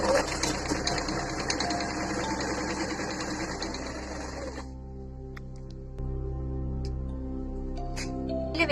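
A sewing machine with a buttonhole foot stitches a buttonhole in a fast, steady mechanical chatter for several seconds, then stops, leaving a low motor hum, with a voice talking over it.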